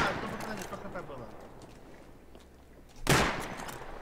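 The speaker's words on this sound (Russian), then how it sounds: "Ему еще один выстрел." A single loud gunshot from the survival video game Rust, fired near a player base during a fight over a helicopter crash, cracks out near the end, following several seconds of fainter background activity while players talk.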